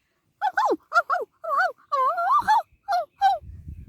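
A dog gives a run of short, high, wavering whines and whimpers, close by, with brief pauses between cries and faint rustling at the end.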